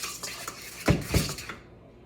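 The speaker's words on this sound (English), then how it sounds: "so then I mix it in and see what the consistency is" A spoon stirs breadcrumbs into a fish cake mixture in a bowl, with a few soft scraping and clinking knocks against the bowl close by.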